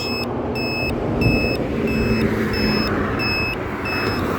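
A cheap computer-motherboard buzzer fitted to the turn signal of an RKS Blazer 50cc motorcycle gives high, regular beeps, about two per second, over a steady idling engine rumble.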